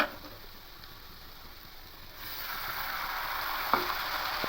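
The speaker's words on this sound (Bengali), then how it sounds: "এবার ঢ্যাঁড়সগুলো দিয়ে দেবো" Okra goes into a pan of hot oil, and a soft hiss rises into a steady, quiet sizzle with a single faint clink partway through.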